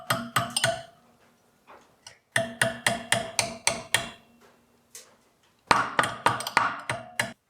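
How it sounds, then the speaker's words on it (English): Sharp metallic taps from a hammer gently striking a metal hook to straighten it, in quick bursts of several blows, with short pauses between groups, close and clear. "we're just going to gently tap this with the hammer to make it slightly straight"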